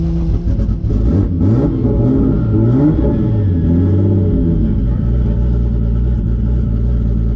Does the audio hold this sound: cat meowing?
no